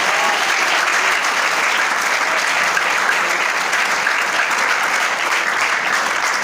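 A church congregation claps together in praise, a loud, sustained wash of applause filling the hall from start to finish with no pauses.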